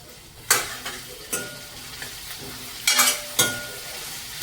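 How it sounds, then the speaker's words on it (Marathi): Pumpkin with curry leaves sautéing in a pan: a steady low sizzle broken by several sharp stirring scrapes, close and moderately loud, with no talking. "असं परतून घ्यायचं भोपळं"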